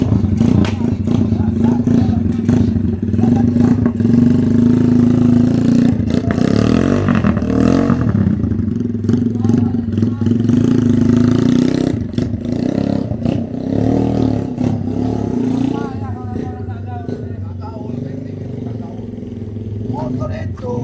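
A motorcycle engine running close by, with a steady loud roar and occasional revs, under nearly continuous talking by several people.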